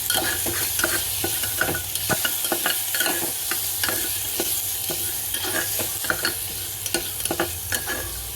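Cinnamon, cloves, black pepper and black cardamom fry in oil with ginger garlic paste and are stirred steadily. A constant loud sizzle runs under repeated close scraping strokes of a spoon against the pan, with no voices.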